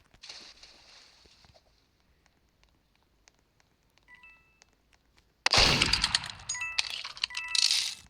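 Burst of rapid cracking gunfire from a Roblox Murder Mystery 2 match, arriving abruptly after a quiet stretch and continuing loud and dense with sharp clinking transients.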